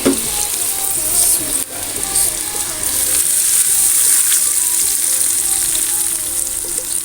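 Hot oil sizzles loudly as a tadka for daal hits the pan, a bright continuous crackling hiss that stays close and strong throughout, with a brief dip near the start.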